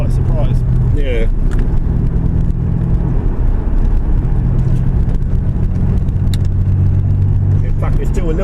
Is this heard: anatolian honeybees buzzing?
no